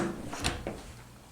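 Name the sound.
hotel bathroom door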